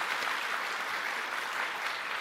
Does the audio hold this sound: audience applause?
yes